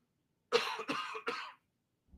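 Three quick, raspy coughs close to the microphone, then silence.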